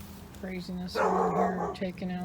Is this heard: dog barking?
yes